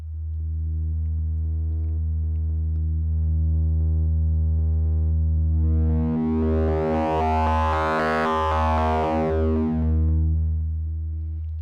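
Make Noise DPO oscillator playing a pure sine wave shape with no wavefolding, a steady sustained low drone held for the whole stretch, with brighter overtones swelling midway before settling back.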